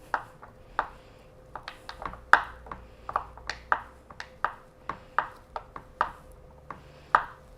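A knife chops butter into cubes on a board for an apple crisp crumble, about a dozen crisp, separate cuts in an uneven rhythm, close and clear with no talk.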